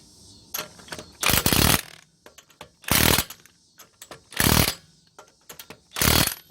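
A power tool snugs the lug nuts on the front wheel of a 2005 Scion xB during a brake job: four loud, short whirring bursts separated by pauses with small clicks and handling noises.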